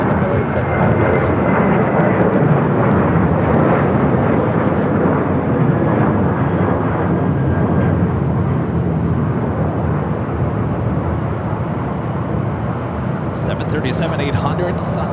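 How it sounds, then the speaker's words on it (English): A Sun Country Boeing 737-800 takes off from runway 7 left at Phoenix Sky Harbor, its engines producing a loud, continuous jet roar that stays strong throughout and eases slightly near the end, while a voice talks over it. "737-800 Sun Country rolling down the 7 left to fly heading back to Minneapolis."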